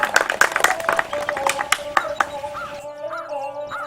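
Clapping from a village crowd at a comic sarpanch election rally, a burst of several sharp hand claps in quick succession that thins out and fades within a few seconds.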